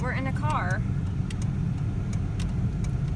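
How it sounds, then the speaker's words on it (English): Car driving, heard from inside the cabin: a low, steady road and engine rumble throughout, with people talking briefly at the start and faint clicks and rattles. "we're in a car"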